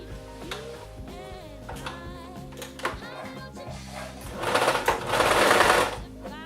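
A sewing machine stitches fabric for a headband in short bursts, then runs a louder, sustained stretch near the end, with a voice talking over parts of it.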